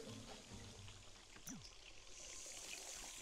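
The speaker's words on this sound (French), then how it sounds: "Et en plus, elle a cassé la douche." A broken shower runs in a video game, giving a steady, faint hiss of streaming water with a brief splashing burst partway through and no talking.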